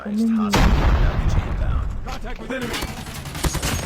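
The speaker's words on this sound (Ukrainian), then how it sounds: "Це по мені стріляють." Gunfire from Call of Duty: Mobile sounds in rapid bursts with sharp cracks and booms, a dense, loud exchange of shots against a busy game soundscape and a brief electronic tone.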